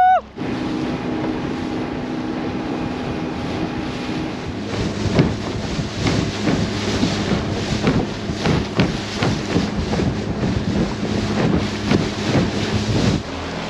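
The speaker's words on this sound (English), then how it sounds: "it's a bit windy" Steady wind roars and buffets the microphone on a fishing boat at sea during a saltwater barramundi trip, with a broad, constant rush and gusty bumps and knocks throughout.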